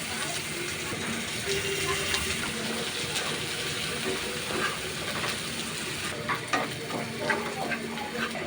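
Chopped onions frying in a pan for broiler chicken bhuna give a steady, close crackling sizzle with scattered sharper pops and a few light clinks throughout.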